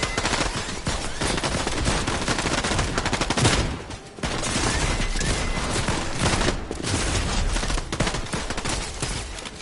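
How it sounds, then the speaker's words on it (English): Gunfire in the Fortnite video game: sustained, loud rapid-fire bursts of automatic shooting that briefly drop off near the middle, then resume just as densely. "Why are you shooting at me?"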